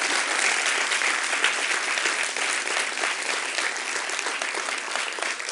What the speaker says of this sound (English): please give them a big applause because they organized everything